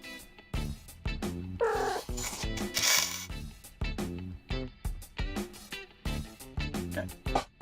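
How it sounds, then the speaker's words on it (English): A cat vocalizes up close in a string of repeated, rhythmic calls with a louder drawn-out cry near the middle, with no talking. "Aw, kitty."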